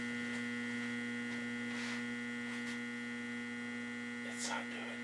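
An overloaded electric doorbell gives off a steady mains hum and buzz with strong tonal harmonics, continuous and fairly close, with a few brief scratchy noises over it and no talking.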